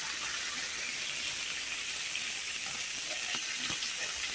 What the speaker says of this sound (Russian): вкуснятина жарится.